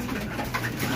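Racing pigeons cooing inside a loft, a short burst of soft low coos heard close up, with no voices.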